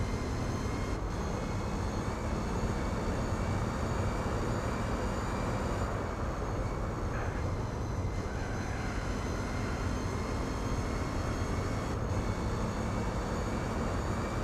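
A Mercedes-Benz E55 AMG engine in Gran Turismo 4 during a 24-hour Nürburgring endurance race: a steady, unbroken drone at constant load with no voices.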